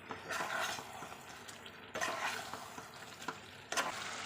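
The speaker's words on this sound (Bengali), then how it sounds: "ভালো করে সব মশলাগুলো একসঙ্গে মিশিয়ে নেবো চিকেনের সঙ্গে" Chicken pieces coated in spices and chopped coriander are stirred in a hot pan, a soft scraping, sizzling sound with brief louder strokes of the spatula, fairly quiet and without talk.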